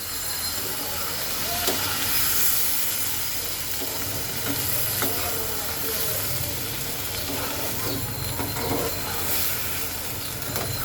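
Chital fish head and leftover vegetables braising in a pan as a little water is added, giving a steady, broad sizzle and steamy hiss that runs close and even throughout, with no talking.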